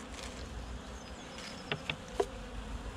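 A large honeybee colony hums steadily inside its long box hive during a February winter check, a moderate, continuous buzz with a few sharp clicks and taps near the end.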